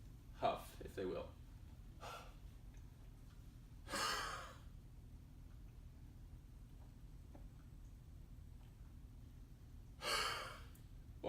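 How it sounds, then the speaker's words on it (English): Several forceful, breathy exhalations, each a short huff of air, spaced irregularly apart against a quiet background. "to breathe out forcefully, almost as if they were trying to fog up a mirror"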